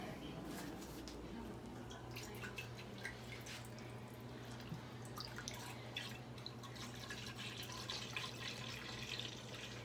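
Organic grass-fed milk pours steadily into an Instant Pot, a soft continuous liquid splashing and dribbling, faint and close over a low hum.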